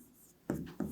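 A pen scratches out a maths solution on paper in two short, quiet strokes after a moment of near silence.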